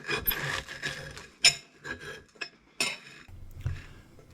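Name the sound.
knife cutting toast into four pieces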